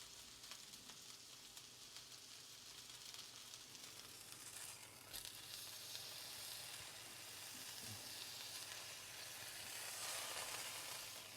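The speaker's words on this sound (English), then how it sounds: "It's up to me how long I sear it for." A beef silverside joint sears in a hot pan, giving a quiet, continuous sizzle and frying hiss with a few small crackles, heard alone without speech.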